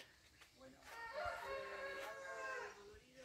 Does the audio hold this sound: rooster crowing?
yes